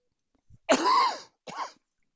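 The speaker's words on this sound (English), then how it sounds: "I went offline for a little cough." One harsh, throaty cough followed a moment later by a shorter second one, close and clear against silence.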